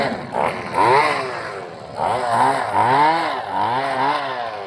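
A small 2-stroke engine on a cheap homemade kick scooter starts up and runs with a buzzy, raspy note that rises and dips in pitch in short revving bursts, close and fairly loud.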